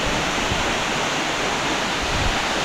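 Love Waterfall in Hoang Lien National Park near Sapa, Vietnam, pours in a dense, steady roar of rushing water, broadband and unbroken, heard close with no voices.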